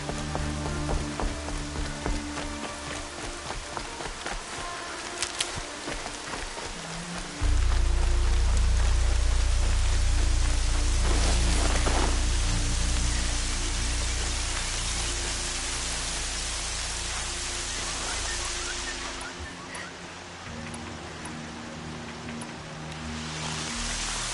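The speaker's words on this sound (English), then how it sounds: "Rain's not so bad." Steady rain hiss falls across a PS4 game scene, a broad constant wash with a low engine-like drone swelling in partway through and a few faint clicks; no one talks.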